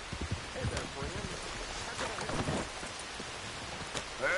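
Steady rain patter falls across a video game world in Red Dead Redemption, a continuous hiss spread evenly through the scene, with voices and other game sounds breaking in over it.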